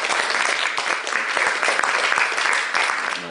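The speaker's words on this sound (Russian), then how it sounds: "Давайте мы похлопаем все друг другу." A seminar audience of young activists applauds one another, a dense, steady round of many hands clapping close and loud throughout.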